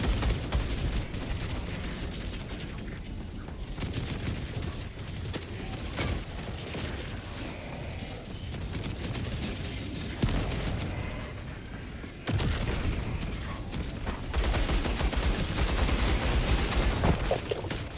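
Sustained turret gunfire in the video game Helldivers 2 runs continuously over mechanical clatter and rumbling booms, a dense, steady barrage with no pauses.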